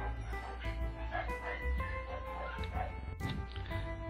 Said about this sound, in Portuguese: Aí, meus cachorros começaram a latir.